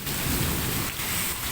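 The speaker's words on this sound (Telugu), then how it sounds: "మేమైతే ఇలా ఉరుములు వచ్చినప్పుడు అర్జున పలకకు అని ఏదో అంటారు కానీ నాకు అంత గుర్తులేదు." Steady heavy rain pours down with a low rumble of thunder swelling underneath, loud and continuous throughout, with no voices.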